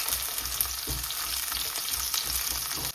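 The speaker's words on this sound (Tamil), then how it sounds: "இப்போ நான் வந்து கட் பண்ணி வச்சிருந்த சாம்பார் வெங்காயத்தை சேர்ப்போம்." Chopped sambar shallots fry in hot oil with cumin in a pan, giving a dense, continuous sizzle with small crackles and occasional stirring bumps, close and loud.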